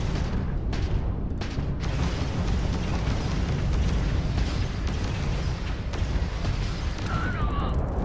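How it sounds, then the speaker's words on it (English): Missiles launch and explode in Starfield space combat, a dense, loud and continuous roar of blasts and rumbling with brief bursts and no clear gaps. "Missiles out."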